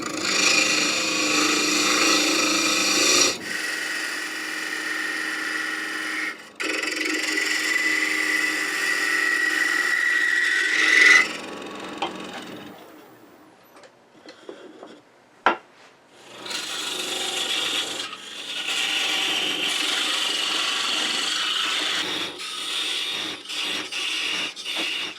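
Wood rasping and scraping as a box bottom is cleaned out on a lathe with a half-inch spindle, a steady close cutting hiss that stops and restarts several times, with a quieter patch of brief knocks in the middle.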